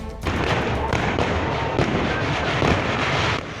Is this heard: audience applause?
no